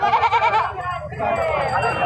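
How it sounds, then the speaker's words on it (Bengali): Goats bleat loudly and repeatedly at a busy rural livestock market, with the cries overlapping and close by, and voices murmuring beneath them. "ছাগল নিয়ে এসেছে বিক্রি করার জন্য"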